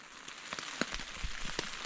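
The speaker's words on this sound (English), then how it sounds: "it has not stopped raining. So I'm tent bound." Rain falls on a tent at a wild camp by a lake, heard from inside as a steady soft patter with a few louder individual drops standing out, and no one speaking.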